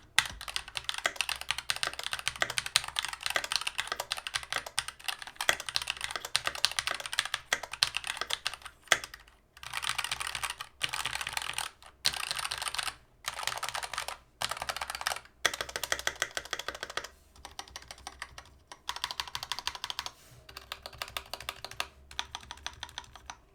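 Rapid clattery typing on a cheap plastic Hall-effect keyboard, close and loud, with continuous key clicks broken by short pauses between bursts.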